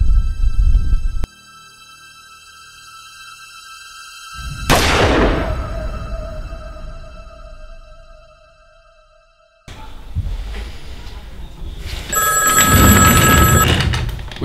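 Old-style telephone bell rings loudly in bursts, with pauses and other noises between them, and a final burst of ringing near the end.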